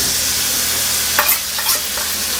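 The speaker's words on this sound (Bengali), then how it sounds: "আগে মশলা ভালো করে ভেজে নেব" Ground spice paste frying in a pan for a country-chicken kosha, giving a constant close hiss of sizzling oil broken by a few brief stirring scrapes.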